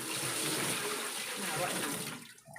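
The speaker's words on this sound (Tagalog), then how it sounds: "Sige tayo, buhos niyo po." Water from a bucket pours out in one continuous, loud rushing splash during a home service job, tapering off at the end, with faint talk underneath.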